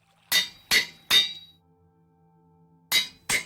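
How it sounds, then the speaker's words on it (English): An anvil breaks in the Minecraft video game, heard as five bright metallic clanks, three in quick succession and two more after a short pause, with no voices. "Ah, the anvil broke."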